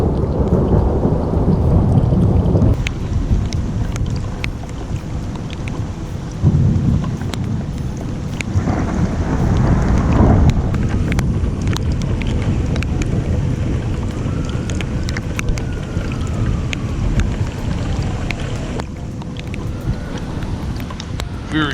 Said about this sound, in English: This is a few clips from the big Seattle lightning storm a couple of years ago.